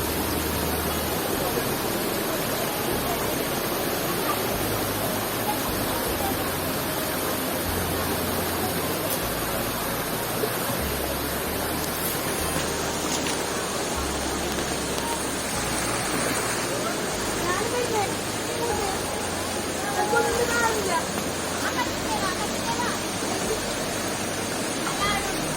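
A waterfall in Kasaragod roars as a constant, even wash of broadband water noise. It sounds moderately near and fills the whole stretch with no break.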